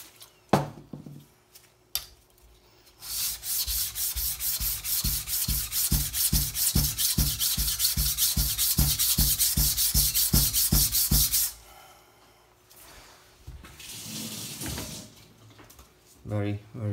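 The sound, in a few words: knife sharpening on extra coarse whetstone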